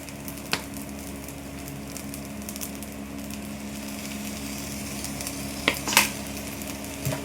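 Soy sauce goes into chicken fried rice in a pan, giving a soft steady sizzle with stirring and a few sharp spatula clacks near the end.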